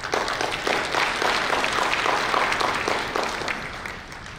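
Audience at a Hana Bank economic outlook conference breaking into applause after a speech, a dense, steady wash of many hands clapping close by that fades slightly toward the end.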